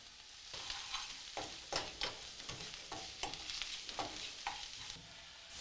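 Carrots being stirred in a hot pan with olive oil, tomato paste and salt, a steady sizzle of frying broken by repeated scraping stirs roughly every half second, close and fairly loud.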